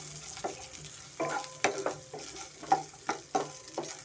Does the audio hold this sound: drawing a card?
no